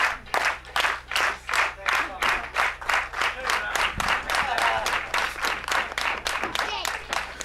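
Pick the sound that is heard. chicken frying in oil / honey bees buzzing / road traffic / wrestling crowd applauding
wrestling crowd applauding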